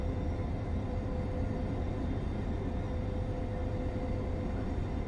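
A train runs in the Train Sim World 5 video game, a steady rumbling cab drone with a continuous low roar and faint tonal hum, unbroken throughout.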